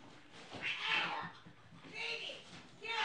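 Cats meow and caterwaul in a heated domestic squabble, with two or three drawn-out cries rising and fading over a few seconds, heard indoors under and between a person's talking.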